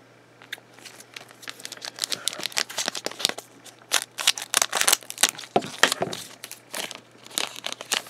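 A Pokémon XY booster pack wrapper is torn open and crinkled, giving close, loud bursts of sharp foil crackling and rustling in an irregular rhythm.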